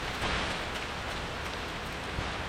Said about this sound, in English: It's pouring rain, it's pouring rain.